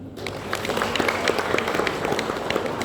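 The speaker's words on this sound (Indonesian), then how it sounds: "Kalau tepuk tangan." An audience at an election seminar bursts into applause, a quick dense patter of many hands clapping at close range that carries steadily for a few seconds.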